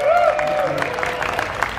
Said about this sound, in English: Can you give them a big round of applause?